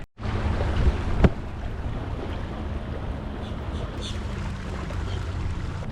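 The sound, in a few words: wind blowing over a lake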